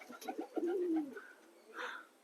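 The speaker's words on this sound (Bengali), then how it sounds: "দেখুন আকাশে সব পায়রা গুলো উড়ছে" Racing and Giribaz pigeons coo softly nearby, a low throaty rolling call with a few quieter bird sounds and faint background noise, no voices.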